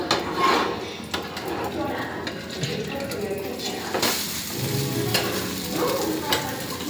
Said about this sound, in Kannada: ನೋಡಿ ಜನರೇ, ನಮ್ಮವ ತತ್ತಿ ಹುರ್ತಾ ಇದ್ದಾನೆ.